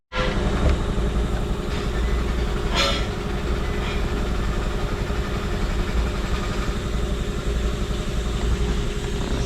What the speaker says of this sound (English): start the car up. It's gonna take a while to start because remember there's no gas in the system